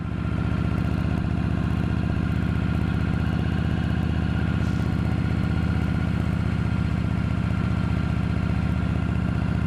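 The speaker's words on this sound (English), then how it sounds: "this old girl just idles on along, grunts up this hill." An old vehicle's engine idles along steadily while climbing a hill, a continuous loud low rumble with mechanical clatter throughout and no talking.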